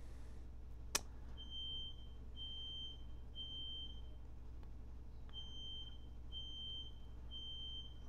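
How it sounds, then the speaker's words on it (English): A household smoke alarm set off by burnt toast chirps in a steady repeating pattern of short high beeps, moderately faint and distant, over a low steady background hum. "What the hell's that alarm going off in my friggin' house?"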